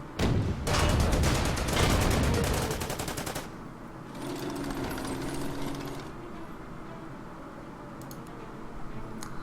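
A Panzer IV tank opens fire in the wartime strategy game Order of Battle, set in a desert sandstorm scenario: a loud, dense burst of rapid machine-gun fire for several seconds, followed by a quieter rumbling tail and faint distant shots.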